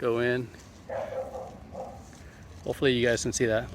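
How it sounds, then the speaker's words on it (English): A dog barks a few times in the background, fairly distant, while someone speaks close by over outdoor ambience. "Sorry for the barking dog there"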